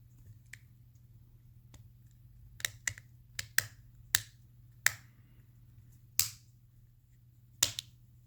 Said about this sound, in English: Carefully align the two halves and snap them back together. You should hear a satisfying click when it's closed securely.